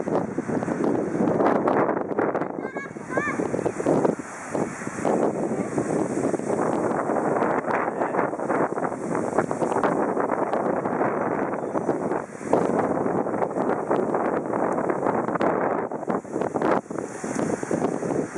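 Strong, continuous wind roaring and buffeting against the microphone, with gusts surging and easing throughout and no speech.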